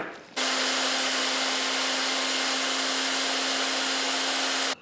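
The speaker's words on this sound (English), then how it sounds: "the next little job is to try and drill these out so I can reuse them with new bolts" Power drill boring out sheared bolts stuck in a car sway bar bracket: a steady high whine starts abruptly, holds at a constant pitch with gritty metal grinding, then cuts off at the end.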